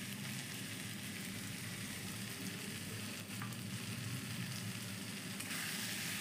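Ginger paste and tomato puree sautéing for Bengali crab masala, a steady, dense sizzle and crackle of frying that runs unbroken and fairly loud throughout, with faint stirring underneath and no talk.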